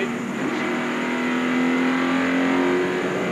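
NASCAR Busch Series race cars at the 2002 Kroger 300 roar past on the track, a steady, loud engine drone with a rising pitch as they accelerate through a corner and up a hill.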